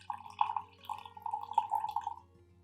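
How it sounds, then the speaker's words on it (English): Water trickles and drips into a sourdough starter being revived after months of neglect, a soft, close pouring sound with a few light splashes lasting a couple of seconds. "So I'm just gonna add 26 grams of water."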